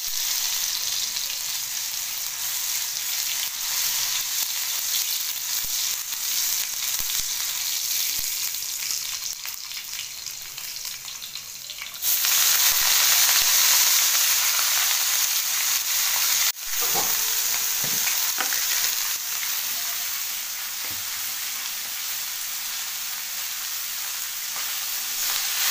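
Half-crushed peeled garlic fries in hot oil in a tava, a continuous close sizzle that suddenly grows louder midway, then settles back to a steady hiss with occasional stirring.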